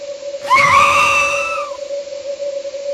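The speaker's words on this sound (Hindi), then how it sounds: "तभी अंदर से सुकेश की चीख सुनाई देती है" A scream from inside a jammed room in a horror story, a single rising, wavering cry lasting about a second over a steady electronic drone, loud and close with no talk.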